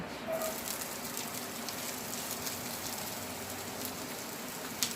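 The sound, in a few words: chopped onion sautéing in a pan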